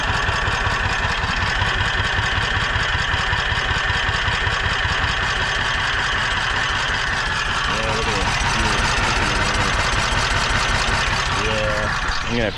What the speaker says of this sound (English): But we do have a running engine.